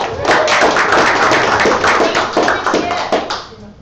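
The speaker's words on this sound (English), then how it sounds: "Round of applause for Cindy." Applause at a real-estate team meeting, a few people clapping loudly and close with individual claps distinct, some chatter mixed in, fading away at the end.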